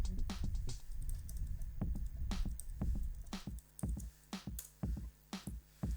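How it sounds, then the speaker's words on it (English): Keys clatter on a computer keyboard as a password is typed in, a run of crisp close clicks that slows into a few separate bursts of keystrokes toward the end, with no voices over them. "we'll just type a secret password and then type it again."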